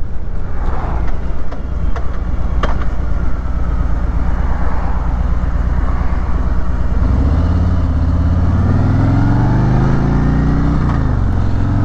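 A Harley-Davidson Road King Special touring motorcycle rumbles loudly through a corner, its engine drone steady and close, then rising in pitch as it accelerates out of the bend amid wind noise.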